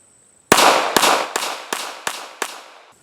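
Ruger LCP pistol fired six times in quick succession, each shot a sharp, loud, close crack with a brief decaying tail, spaced roughly half a second apart.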